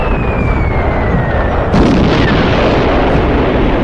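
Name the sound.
bombs exploding on zombies in a cartoon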